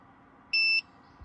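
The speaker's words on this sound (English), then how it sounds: "Here we go, we're getting an alarm." A single short, high electronic overload alarm beep from a Bateria Power 600W portable power station sounds once over a low background hum.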